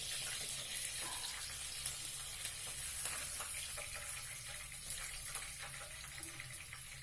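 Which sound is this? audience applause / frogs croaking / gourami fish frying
gourami fish frying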